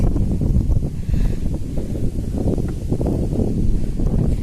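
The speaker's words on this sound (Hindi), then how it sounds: "आज बहुत तेज हवा चल रही है" Strong wind on a mountain trek buffeting the microphone with a constant low rumble and gusty roar throughout, close and loud.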